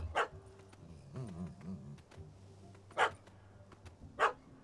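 A dog in The Witcher 3: Hearts of Stone yaps a few times at a distance, short sharp barks spaced out over a quiet game ambience.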